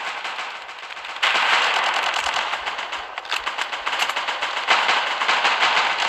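Rapid automatic gunfire from a World War shooter game against Nazi enemies rattles in dense bursts, stepping up louder after the first second and continuing with brief gaps, with no talk.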